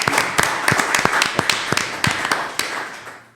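An audience claps for a speaker, with steady, fairly close applause made of many overlapping hand claps and distinct sharp slaps, fading toward the end.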